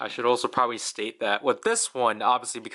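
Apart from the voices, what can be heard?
None of the usual background noises is heard.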